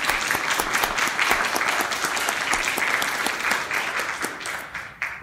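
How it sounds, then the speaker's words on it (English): A room of attendees at a club's general meeting gives a steady round of applause after awards are announced, dense overlapping claps from a sizable crowd, close and even, tapering off near the end. "So let's give those folks just a quick round of applause."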